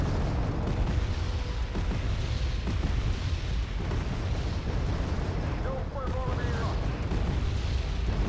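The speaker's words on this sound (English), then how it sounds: "The rockets are firing now. The volley is completely away, so we're going to wait for all of that to land." Rocket artillery volley crashing down in Wargame: Red Dragon, a dense, continuous rumble of overlapping explosions and booms filling the whole stretch at steady loudness, with a brief higher tone near the end.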